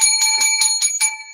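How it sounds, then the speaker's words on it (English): A metal hotel desk bell is struck rapidly about six times, each bright ding ringing close and loud with a short clear sustain. "This hotel bell represents Jeff Zambello's New Jersey base office at the Hilton Hotel"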